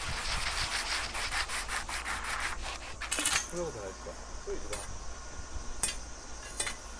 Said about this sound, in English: And then finally some sanding just to get it as smooth as possible.